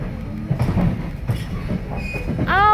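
A train on the Strasburg Railroad passes close by, loud rumbling wheels with rhythmic clacking and rising metallic squeal of wheels on rails at the end.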